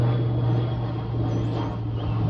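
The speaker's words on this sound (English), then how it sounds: "That is a really cool plane." An old bomber airplane passes overhead as a steady, droning engine rumble with a strong low hum, continuous and fairly loud, with no voices.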